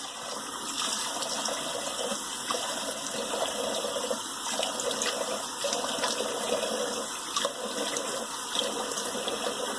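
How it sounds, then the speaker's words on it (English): Water runs steadily from a tap, a continuous splashing gush with faint clatters, alongside a high electronic whine. "the cold water rinse is coming now"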